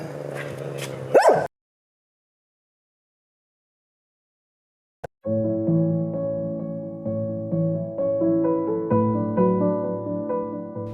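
A dog whimpers and yips in short bursts at the start, then after a long pause a sustained tonal passage follows, heard fairly close.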